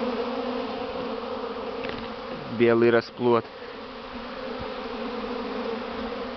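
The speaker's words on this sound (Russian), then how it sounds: "Здесь вот тоже в этом улье сильный облет" Honeybees swarm around a hive in a strong spring cleansing flight, a steady dense buzzing drone throughout, with a brief burst of a man's speech near the middle.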